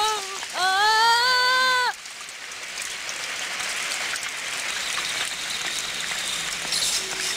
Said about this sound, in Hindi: अरे बारिश होने लगी।